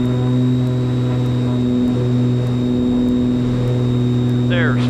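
Turbocharged aircraft engines drone steadily at takeoff power inside the cockpit, a loud constant hum with a low throb, with a voice talking over it.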